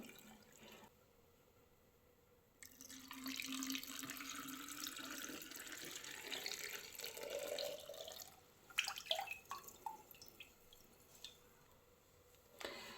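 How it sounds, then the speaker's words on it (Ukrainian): Salt brine pours over green tomatoes packed in jars, a steady stream of splashing liquid that begins after a quiet moment and then trails off into drips and small clinks. "Сіль розтанула, заливаємо помідори."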